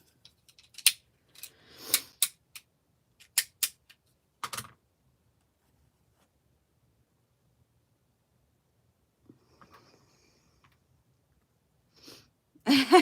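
Scissors cutting paper scraps to make bookmarks give a cluster of sharp, close snips over the first few seconds. A long quiet gap follows, then a few fainter rustles and snips at the end.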